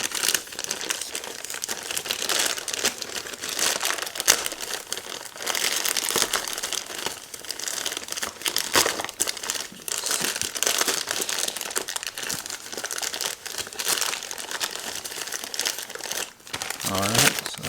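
Plastic packaging around an Otterbox Defender phone case crinkles and crackles continuously in close, irregular bursts of rustling and tearing during unboxing, with some talk mixed in.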